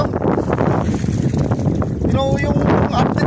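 Strong amihan wind blowing at sea around a small fishing boat, a steady loud roar of gusts buffeting the microphone, with someone talking over it.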